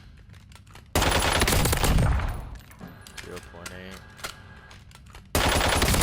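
Hemlock CQB battle rifle fire in a video game, loud bursts of rapid gunshots with a quieter gap between them that carries clicks and a brief game sound, then another loud burst.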